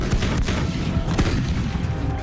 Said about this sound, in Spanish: El asalto comienza con fuego de artillería de 700 piezas aliadas.